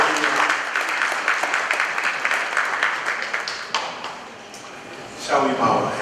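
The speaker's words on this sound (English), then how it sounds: "Let us give him a round of applause." Audience applause at a formal power breakfast event, a steady wash of clapping filling the room for about five seconds before tapering, then a brief renewed burst near the end.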